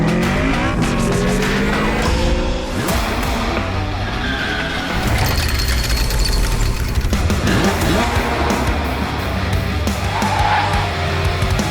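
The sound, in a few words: BMW i8 Roadster and Suzuki Hayabusa 1300cc drag race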